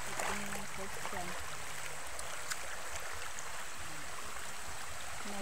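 Steady rush of a waterfall feeding a flowing stream, a continuous broadband wash of water heard alone at moderate level with faint low murmurs underneath.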